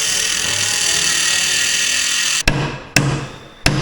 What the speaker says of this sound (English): So it's Dremel job.